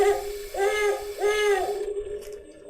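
An owl gives two drawn-out, wavering hoots in succession, clear and moderately loud, with no talking over them.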